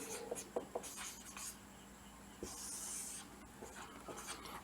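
Chalk or marker scratching and rubbing on a classroom board, a series of short strokes and scrapes, soft and close, alone with no talk.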